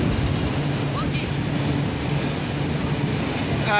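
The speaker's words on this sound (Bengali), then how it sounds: "সামনে দিয়ে লালমনি এক্সপ্রেস আসতেছে" The Lalmoni Express passenger train rumbles steadily close by as it arrives at Ibrahimabad railway station, a dense roar of wheels on rails with a faint squeal toward the end.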